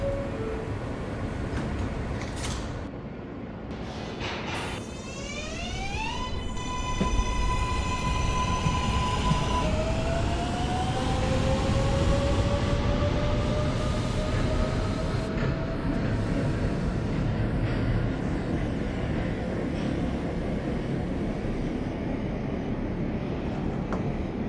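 Kawasaki R143 subway train on a Coney Island bound M run in the OpenBVE train simulator game, with a steady rolling rumble under rising, stepped motor whine tones as it accelerates, close and continuous with no talking.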